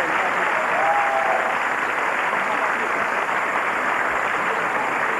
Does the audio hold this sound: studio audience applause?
yes